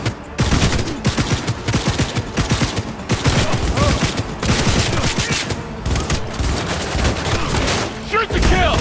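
Sustained gunfire in the video game Cyberpunk 2077 (blind Nomad playthrough), loud and dense bursts of automatic shots running almost without pause for nearly nine seconds, with shouting mixed in.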